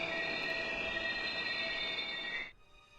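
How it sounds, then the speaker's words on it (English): A loud, sustained metallic screech of train brakes grinding over rumble in the video game Steins;Gate, cutting off abruptly near the end and leaving a quieter hum. "Sparks fly as the train slams on its brakes."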